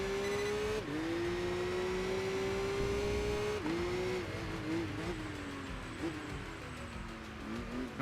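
A Ferrari 308 in the Enthusia Professional Racing video game revs high and steady, then drops pitch at each gear change in a few clear shifts, its engine tone loud and alone with light tire noise beneath.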